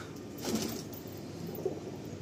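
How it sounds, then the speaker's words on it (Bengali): Soft pigeon coos sound a couple of times in a pigeon loft over a quiet, murmuring background, fairly faint and unhurried. "দারুণ দারুণ কোয়ালিটির কিছু পায়রা এখানে রয়েছে"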